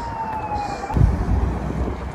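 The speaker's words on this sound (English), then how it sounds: "never mind, it's an ambulance." A distant ambulance siren wails steadily in a downtown street, its tone sliding slightly, under a constant rumble of traffic and wind with a louder low surge partway through.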